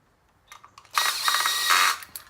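Fasteners being tightened on a kitchen island outlet box, short mechanical ratcheting and driver whirring in a quick burst lasting about a second, close by with no talking.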